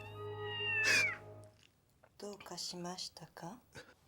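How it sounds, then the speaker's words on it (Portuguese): A drawn-out, wavering cat meow comes through a phone call in a horror film, loud and tonal, then gives way to a stretch of talk. "apenas miados de gato saem da ligação"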